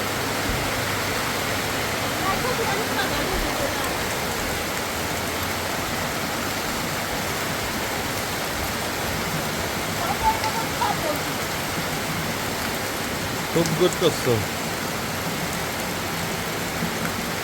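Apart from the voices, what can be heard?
heavy rain on a tin roof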